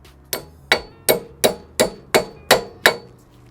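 Eight sharp metallic hammer strikes at a steady rhythm, hammering wheel studs into a Lexus IS300 hub, each ringing briefly before the next, loud and close with no talking.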